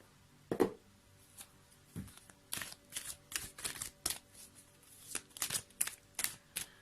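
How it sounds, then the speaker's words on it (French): Oracle cards handled, shuffled and drawn, giving a string of close, crisp flicks and slaps in irregular bursts, some sharper than others, with no talking over them. "on va prendre une carte de « Je me sens à ma place »."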